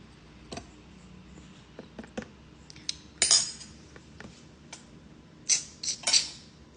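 A utensil stirs borax solution, clinking and scraping against a container in scattered taps, with a few sharper clinks near the end; quiet, close, no talking.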